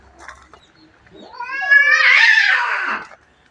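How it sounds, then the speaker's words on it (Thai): Cats fighting between an indoor and an outdoor cat at a temple in Lampang, Thailand: a rising, drawn-out caterwauling yowl swelling loud for about two seconds, with faint rustling before it and no talk. "มีเหมียวข้างในเหมียวข้างนอกทะเลาะกันอีกแล้ว"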